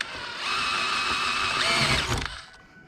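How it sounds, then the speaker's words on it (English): A power drill fitted with an 11/64 drill bit whines steadily while drilling out rivets on a Honda Beat soft top. It runs for about two seconds, then spins down and stops, close and alone. "So we'll go ahead and drill these guys out."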